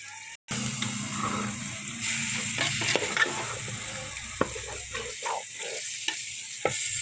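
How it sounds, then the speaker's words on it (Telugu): Small cut mutton pieces fry and get stirred into a thick masala paste for mutton biryani, a steady close sizzle with scraping stirs and a few clinks of the spoon against the pot, no talk. "చిన్నగా కట్ చేసినటువంటి మటన్ ముక్కలు ఇలా పేస్ట్లో వేసుకోవాలా"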